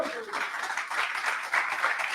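Church congregation applauding during a Portuguese-language sermon. Steady, dense clapping continues throughout at moderate loudness, with faint voices underneath.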